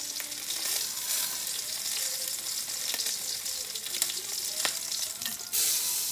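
Pork chop fat cap searing in a hot pan, a steady loud sizzle and crackle of rendering fat throughout with a few sharp pops, no talking.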